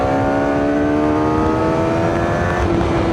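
A QJMotor SRK 421RR four-cylinder motorcycle engine revs high and steady, a loud, rising whine close by with no talk.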